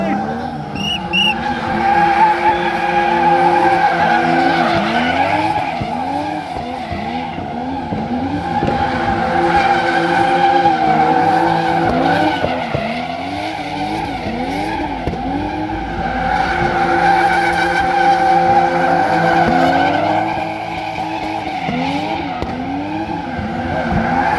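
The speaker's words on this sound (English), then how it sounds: "this is a drift taxi ride!" A car drifting on a track during a drift taxi ride at the JK Tyre festival in India: sustained loud tire squeal and engine roar with rising and falling pitch sweeps as the car slides through repeated turns.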